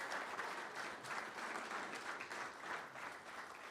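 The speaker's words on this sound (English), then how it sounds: "We'll give them one more round of applause." An audience at a county board meeting applauds middle school students. The clapping is dense, steady and sustained throughout, with no pauses.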